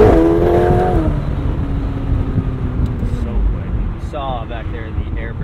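A McLaren 720S Spider's engine pulls hard, a rising then steady roar with a pitch sweep near the start and wind rush throughout, heard from inside the open-top car.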